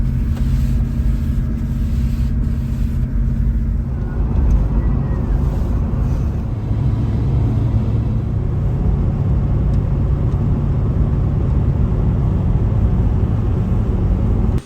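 Car being driven to warm up its engine on a cold morning near the snow in Kosciuszko National Park, a steady low engine rumble with road and wind noise, continuous and close.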